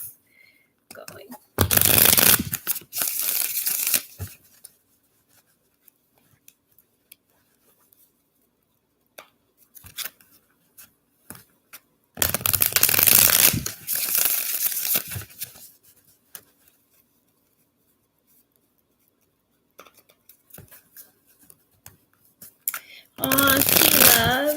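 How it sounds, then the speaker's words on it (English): Tarot cards being shuffled in three loud, dense bursts of riffling and rustling, each a few seconds long, separated by quiet stretches with faint handling and soft speech. "So I'm going to shuffle for you, Coco."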